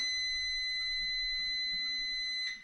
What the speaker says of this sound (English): Timer's about to go off.